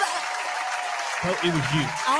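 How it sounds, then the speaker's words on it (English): Applause sound effect triggered from a button, a brief burst of canned clapping playing behind someone talking, close and moderately loud. "Where the clap at?"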